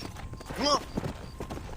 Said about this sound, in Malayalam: ഇപ്പൊ പതുക്കെ വന്നോ സോംബി കുതിര